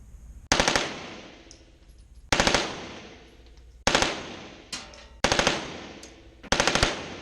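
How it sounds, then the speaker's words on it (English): An MP5 submachine gun fires at an indoor shooting range in five sharp short bursts of rapid shots, loud and close, each followed by a ringing decay, with brief quiet between bursts. "What do you think about the MP5? Very light recoil."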